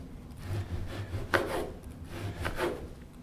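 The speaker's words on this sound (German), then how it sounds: "Klassisches Sägemesser nehmen, funktioniert bestens." A serrated bread knife saws through a layered dessert pastry with soft rasping strokes, a few sharper crunchy cuts standing out, close and fairly quiet with no talking.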